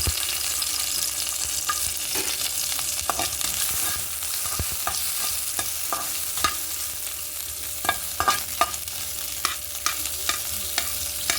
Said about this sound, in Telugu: నూనె వేడైంది చేపలు వేయించుకుందాం